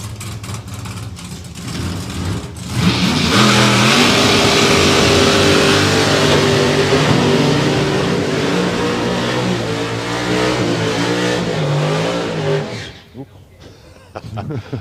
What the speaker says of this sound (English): Quite a good burnout, actually, quite spectacular.